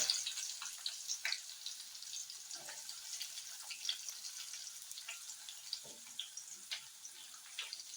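Cumin, curry leaves, onion and chilli fry in a pan with a faint, steady hiss and light crackle. Occasional soft pops and clinks sit underneath, and no one speaks.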